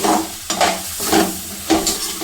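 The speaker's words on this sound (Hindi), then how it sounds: "आलू मसाले से मिक्स कर लेंगे" Potatoes stirred and frying with spices in a pan for an aloo baingan sabji, a steady close sizzle broken by several scraping stirs of the spoon, with no voices.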